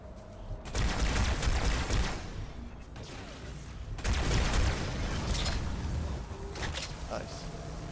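Frag grenade blasts and rapid gunfire from Halo 2 gameplay, with dense, loud bursts of shooting and booming impacts sustained throughout, a heavy explosion surging in around the midpoint and a voice talking beneath the combat.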